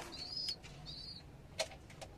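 Racing pigeons about two to three months old coo softly in short, faint calls, with a quick sharper chirp partway through and no talking.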